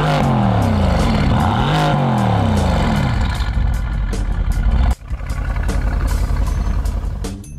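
A Mercedes-AMG GT engine revs hard and close, rising and falling through several loud bursts before settling into a rough, rumbling idle with a sharp break midway.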